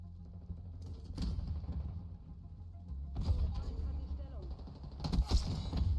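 Gunfire in the video game Call of Duty Black Ops 6 during a ranked match, with bursts of muffled rifle shots and clattering game effects at moderate level, coming and going over low rumble, and a voice talking along.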